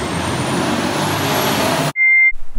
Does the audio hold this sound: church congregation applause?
no